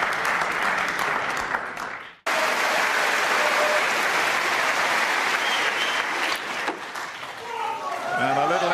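Loud crowd applause and cheering at a snooker exhibition, starting before a brief cut and then sustained as steady clapping, with a few voices rising near the end.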